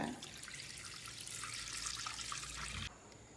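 Water runs steadily into a pot as the base for a Sri Lankan potato and coconut milk curry, a close, hissing, splashing stream that continues for about three seconds and then stops abruptly.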